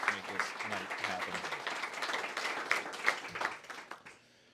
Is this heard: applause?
yes